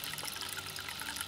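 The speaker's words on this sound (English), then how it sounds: "it's actually sucking air through the gravel" Water trickles and gurgles steadily as an aquaponics system draws air and water down through its gravel bed, a close, continuous bubbling wash with no voices.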